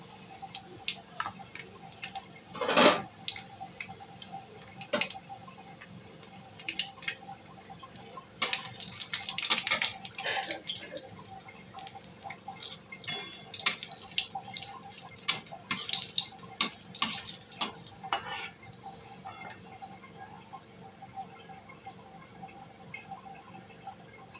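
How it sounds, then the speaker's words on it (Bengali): Garlic, dried red chilli and black cumin (nigella) hitting hot oil for a lentil dal with jute leaves, giving scattered crackles and sputtering sizzles that come in bursts, close by, with no voices. "তেলের মধ্যে আমি দিয়ে দিচ্ছি প্রথমে রসুন, শুকনো লঙ্কা,"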